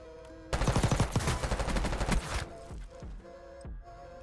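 A rapid burst of video-game gunfire from snipers rattles loudly for about two seconds, then a few scattered, fainter shots and echoing cracks follow, with no voices.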